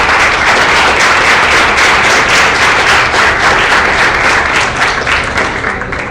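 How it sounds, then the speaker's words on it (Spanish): Loud, dense clapping from an audience at a youth political science forum, close and continuous, slowly tapering off toward the end. "Un aplauso."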